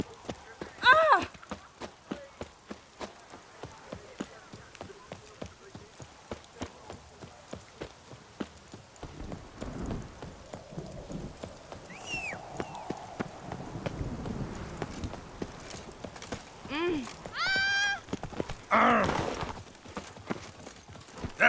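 Roach the horse galloping in The Witcher 3: Wild Hunt, Blood and Wine, a steady rapid clip-clop of hooves running throughout, with a neigh and a man's speech breaking in over it near the end.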